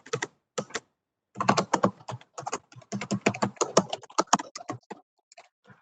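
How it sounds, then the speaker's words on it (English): Computer keyboard typing during an online community board meeting, with a few isolated taps followed by a long, dense run of keystrokes that thins out toward the end. "He's typing"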